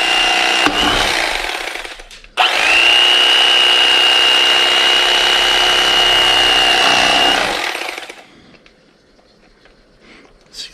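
A knife slices a slow-cooked bottom round roast into thin pieces, heard as a short burst and then a loud, steady buzzing whine lasting about five seconds before it stops and the room falls quiet.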